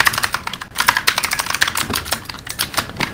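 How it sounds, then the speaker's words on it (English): A loud computer keyboard clatters with rapid, uneven keystrokes during a Fortnite session, close and dry, with no voices. "my keyboard is really loud"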